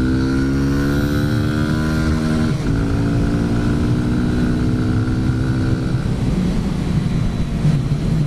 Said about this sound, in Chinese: 降2档直接冲。